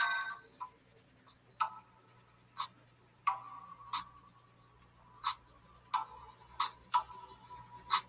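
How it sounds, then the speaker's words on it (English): A pencil sketches on white paper, making a series of crisp, short scratching strokes at irregular intervals, close and quiet over a faint steady background hum, with no talk. "Here's the pencil on paper. On white paper."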